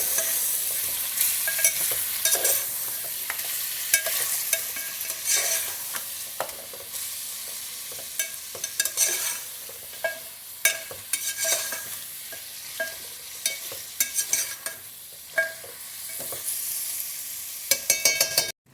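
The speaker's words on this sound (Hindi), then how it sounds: "अब इसमें हम ज़ीरा ऐड कर देंगे। अच्छे तरीके से हमने इसको मिक्स कर लेना है।" Beef seasoned with fennel and cumin is stirred in a frying pan for achar gosht, giving steady close scraping and a continuous sizzle broken by sharp clacks of the spoon, with no talking.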